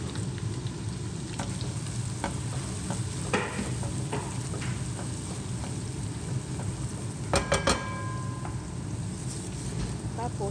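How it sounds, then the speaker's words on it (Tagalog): Ground dried shrimp sautéing with garlic in a pan, a continuous loud sizzle with occasional scraping stirs and clinks up close. "Igisa muna natin yung ating giniling na dry shrimp sa bawang."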